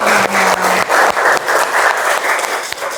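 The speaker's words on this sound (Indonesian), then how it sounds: "Tepuk tangan semuanya." A group claps together in a room, brisk dense applause in short bursts that break off and restart, close and loud.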